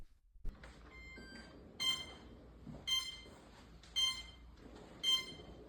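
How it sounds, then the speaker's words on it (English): During a motor test, the ESCs on a prototype heavy-lift drone give five sharp electronic beeps about once a second over a faint low background hum. "It had power, but the ESCs kept beeping at me."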